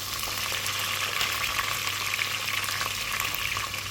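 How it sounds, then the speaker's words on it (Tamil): Onion, curry leaves and garlic sauté in a hot pan, a steady close sizzle that holds at an even level, with no voices over it. "வெங்காயம் கருவேப்பில்லை பூண்டு மூணு மிக்ஸ் பண்ணியாச்சு சரியா ஒரு வதக்கு வதக்குவோம்"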